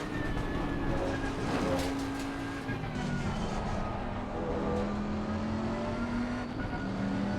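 A Bentley GT3 race car in Assetto Corsa Competizione at Misano runs loud and close, its engine note sliding downward as it brakes into a corner, with rumbling track noise and other cars around.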